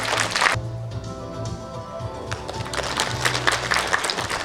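Audience applause at a provincial Korean Provisional Government founding anniversary ceremony, a steady patter of many clapping hands filling the hall at moderate volume, with some brief tapping and shuffling.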